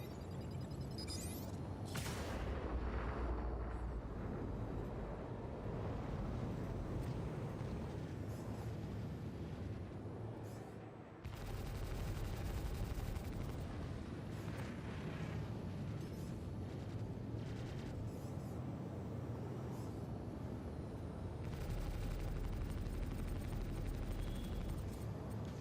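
Ship weapons firing and a target exploding in the space game Star Citizen, heard as a sustained, rumbling roar of blasts and booms that swells and cuts off abruptly midway before resuming, loud and continuous.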